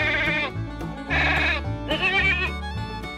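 A goat bleats in a series of loud, wavering calls, three or four close cries in quick succession, heard alone with no talk.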